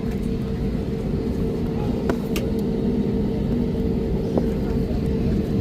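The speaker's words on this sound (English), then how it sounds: "I can hear the plane engine roaring." A loud, steady engine roar with a constant low drone fills the whole stretch, an airplane's engines heard from inside the cabin during takeoff.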